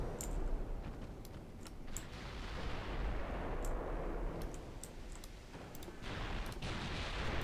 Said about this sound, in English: There's some HE shells.